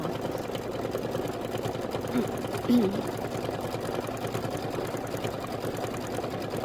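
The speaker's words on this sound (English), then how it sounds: "It's just going to do this decorative stitching." A Baby Lock Reno sewing machine runs decorative stitching on a quilted table-topper stripe piece, giving a steady, soft mechanical whir that continues evenly throughout at moderate volume with no pauses.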